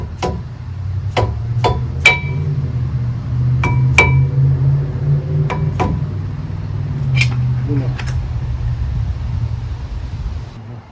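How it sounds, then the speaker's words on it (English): Brake pads are fitted into a caliper on a 2013 Chevrolet Silverado, giving sharp metallic clinks and taps scattered irregularly over a low, steady background hum, all close by. "putting these brake pads in, typically is not the most fun part"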